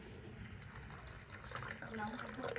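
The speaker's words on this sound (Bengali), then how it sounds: "আর এবার আমি এই সাবুদানার মধ্যে দিয়ে দিচ্ছি গরম জল।" Hot water poured into a bowl of rinsed sago pearls in a home kitchen, a soft continuous splashing trickle heard close but quiet for a couple of seconds.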